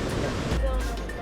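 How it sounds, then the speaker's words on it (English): Powerful waterfalls in Da Lat, Vietnam make a loud, continuous roar of rushing water that fills the whole moment without a break. "the waterfalls are so powerful it's hard to hear"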